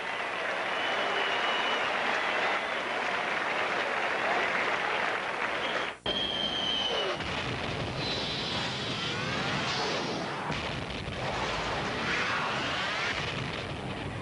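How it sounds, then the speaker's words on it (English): A sellout crowd at Busch Stadium applauds a departing pitcher at a 1998 Expos–Cardinals baseball game, with sustained, broad clapping and cheering that fills the stadium steadily for the whole stretch, dipping once briefly before carrying on. "receives a nice hand from the sellout crowd"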